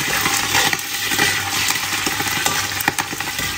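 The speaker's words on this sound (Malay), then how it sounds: "minyak pun dah panas. Ini akan bunyi sikit bersek-bersek ni." Prawns sizzle and crackle in hot oil while cooking sambal, with a steady hiss broken by irregular sharp pops and spatters as their water bursts, close by and with no one talking.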